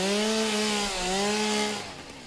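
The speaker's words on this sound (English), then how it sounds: "Wait, what if I chainsaw that thing?" Chainsaw cutting in the video game Satisfactory: a loud, steady motor whine with a brief dip in pitch near the middle, running continuously for about two seconds before cutting off abruptly.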